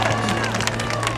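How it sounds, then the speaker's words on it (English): Graduation ceremony audience clapping, a brief burst of dense applause with crowd chatter and a low hum beneath it. "y'all clap it up"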